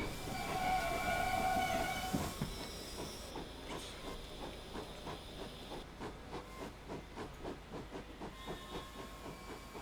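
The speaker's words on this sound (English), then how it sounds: "I hear a train" A steam train on the Riviera Line passes with a hiss and a brief whistle, followed by a rhythmic, repeated clatter of wheels over rail joints that continues steadily at moderate distance.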